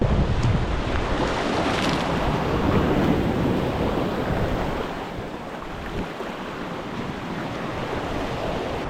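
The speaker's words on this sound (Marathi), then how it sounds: "पुरा पाण्याच्या प्रेशरचा दगडाला आपटत आहे आणि त्याच्या क्रिएट होत आहे लाटा" Sea waves surge and crash against rocks with a broad roar at Harihareshwar on the Konkan coast, mixed with heavy wind buffeting the microphone; the roar eases slightly partway through.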